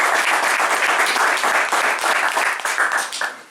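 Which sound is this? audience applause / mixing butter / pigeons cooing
audience applause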